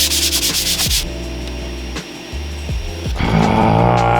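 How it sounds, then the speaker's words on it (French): A 3D printer build plate scraped clean, a loud, close, gritty rubbing and scraping in repeated strokes, alone with no talking. "je vais nettoyer le plateau"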